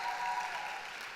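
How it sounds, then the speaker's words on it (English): Brief burst of audience applause at a tech summit keynote, a dense wash of clapping heard at moderate distance, steady and then easing slightly. "I expect an applause for that."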